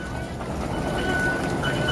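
Taipei MRT metro train running, a steady rumbling roll with a faint high whine throughout, close and continuous with no talk.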